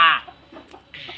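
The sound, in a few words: chicken clucking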